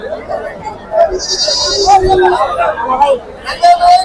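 Goats bleat at the Pebbair livestock market in several short, wavering calls, some near and some further off. Loud crowd chatter and people talking run underneath throughout.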